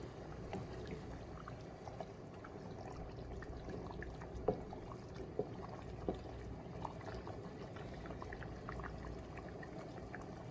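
A pot of rice boils heavily on the stove, giving a steady bubbling, churning wash with a few louder pops and clicks, faint and continuous throughout.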